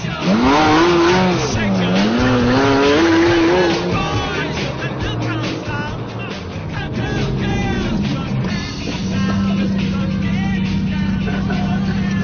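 A Ferrari F50 and Porsche sports cars race during the 2003 Gumball 3000 rally, with loud revving engines and squealing tires passing close, mixed with other road noise.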